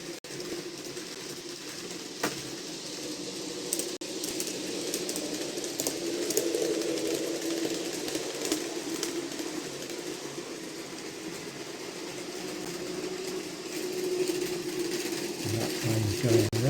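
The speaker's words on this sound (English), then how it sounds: "At the same time we can now watch the train going down the hill." A model railway train rolls steadily downhill on a layout with several loops and stations, a continuous low rumble and faint clatter holding at moderate volume throughout, with no one talking.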